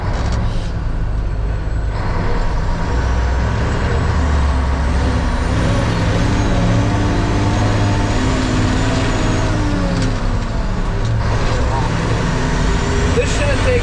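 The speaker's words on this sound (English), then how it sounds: "We got all 4 trucks running now" Several heavy trucks run together with a steady, loud low-frequency engine rumble and continuous mechanical drone throughout, with occasional hissing bursts like air brakes.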